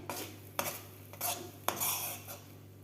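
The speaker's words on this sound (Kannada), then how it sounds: "ಇವಾಗ ಇದಕ್ಕೆ ಈ ಥರ ಮಿಕ್ಸ್ ಮಾಡ್ಕೊಂಡಿರೋಣ." A spoon scrapes and clinks against a pan while kesari bath is mixed, with several distinct metallic strokes spaced out over a low steady hum, close and fairly quiet.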